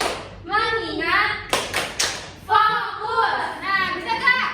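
A classroom of children play a rhythmic focus clapping game, chanting a patterned call together while bursts of sharp hand claps fall between the voiced phrases at close range.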